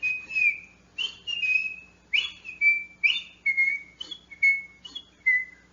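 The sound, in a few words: imitation of whistling duck call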